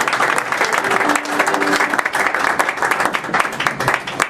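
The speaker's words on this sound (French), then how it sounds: "j'aimerais simplement que nous puissions acclamer pour Jésus-Christ" Church congregation applauding for Jesus Christ, a dense, sustained round of clapping from many hands with faint voices mixed in.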